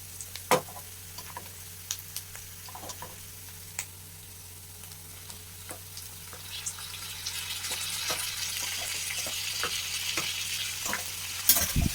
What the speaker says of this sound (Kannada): ಚೆನ್ನಾಗಿ ಈಗ ಟೊಮೆಟೊ ಹಸಿ ಸ್ಮೆಲ್ ಹೋಗೋವರೆಗೂ ಇದನ್ನು ಫ್ರೈ ಮಾಡ್ಕೋಬೇಕು